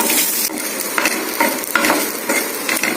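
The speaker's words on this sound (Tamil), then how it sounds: "நல்லா கரட்டி விட்டுக்கலாம்" Brinjal frying in a pan with turmeric and chili powder is stirred repeatedly, a steady close sizzle broken by rhythmic scraping strokes of the spoon, with no voices.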